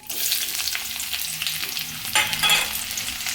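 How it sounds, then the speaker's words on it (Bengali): A whole large chopped onion frying in a hot pan, a steady bright sizzle with soft stirring scrapes running throughout, close and continuous. "তারপরে একটু নাড়াচাড়া করার পরে আমি দিয়ে দেবো এতে একটা গোটা বড় পেঁয়াজ কুচিয়ে রেখেছিলাম সেটা।"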